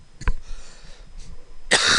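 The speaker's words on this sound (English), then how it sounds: "that cough is terrible, isn't it?" A single sharp cough close to the mic, then a loud burst of harsh, broadband coughing toward the end.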